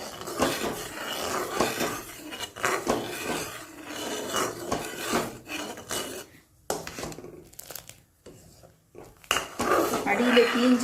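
A utensil scrapes and clatters against a pan of boiling milk being stirred for a caramelized fruit bread pudding, the metallic scraping irregular and close, with brief pauses between strokes.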